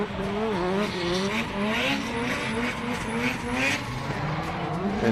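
Drift cars roar through a turn at Manfeild raceway with sustained tire squeal and wavering engine drone, loud and continuous, while a commentator talks over the noise.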